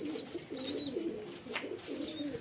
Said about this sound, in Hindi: और देखो मेरे कबूतर खुले हुए हैं।